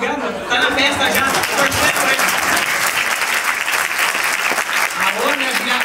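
Sustained audience applause fills a live stand-up comedy show, a broad, even wash of many hands clapping close and loud, with some murmuring and voices mixed in.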